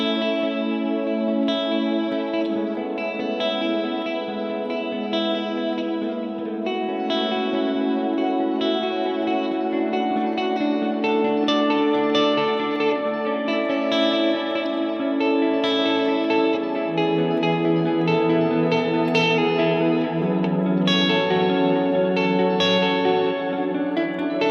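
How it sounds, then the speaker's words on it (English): An electric guitar runs through a pitch delay into a large ambient reverb, giving washed-out, shimmering sustained notes with echoing repeats, played steadily at moderate volume, with no speech. "the pitch delay is going to hit the front end of that big ambient reverb"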